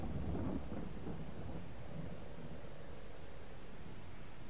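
Rain and rolling thunder from the Farming Simulator 22 video game, a steady wash of rainfall with a low rumble peaking early and then fading, heard alone and fairly quiet.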